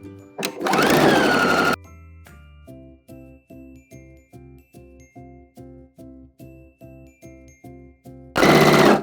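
A sewing machine sews a half-inch straight seam on a dress, sounding as an evenly spaced run of rhythmic mechanical thumps, close and clear, framed by louder whirring bursts at the start and end.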